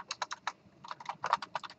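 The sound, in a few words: typing code on a computer keyboard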